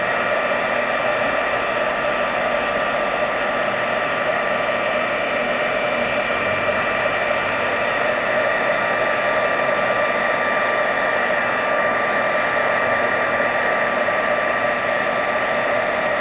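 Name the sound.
heat tool blowing hot air on embossing stamp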